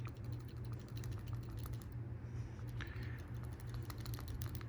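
A used PCV valve pulled from a 2005 Honda CR-V rattled by hand in a shake test, a faint, quick clicking patter over a low background hum.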